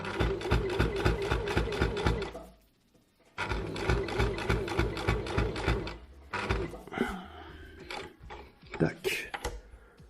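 A sewing machine runs in fast, steady bursts of stitching to sew elastic into a double-layer fabric face mask, pausing once, then giving way to fabric handling and brief shorter runs.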